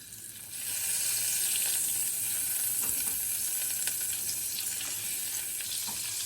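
Butter melting in a frying pan for Swedish meatball gravy, swelling after a moment into a steady, even hiss that stays loud and continuous, with faint crackles throughout.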